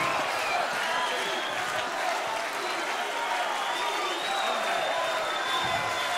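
An audience at an open-air concert in Zofingen applauding, a steady, dense wash of clapping and crowd noise that stays loud throughout, with a voice faintly present in the mix.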